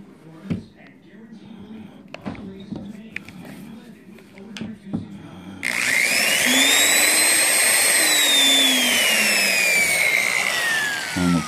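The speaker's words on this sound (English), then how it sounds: "Pre-drill these screw holes so it makes the screws go in easier." A power drill pre-drilling screw holes in wood, starting with a few light taps and knocks, then a loud, steady high-pitched whine that runs to the end.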